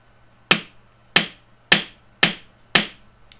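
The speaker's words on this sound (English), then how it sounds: "I'm going to hammer them." Five sharp metallic hammer strikes on wire bracelet links ring out at a steady pace, each a bright tap with a short ringing decay, close up and clear.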